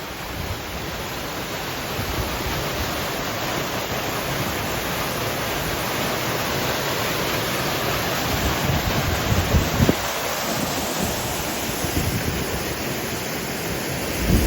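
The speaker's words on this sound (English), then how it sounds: "this is the bottom of the waterfall when it's in full space" A waterfall in full spate after heavy rain, plunging into the pool at its base: a loud, steady, broadband roar of rushing water that never lets up, with faint gusts of wind in the foreground.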